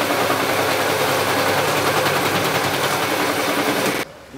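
A charcoal mixing machine churns charcoal with water, a loud, dense, steady mechanical roar with no talk, cutting off abruptly near the end.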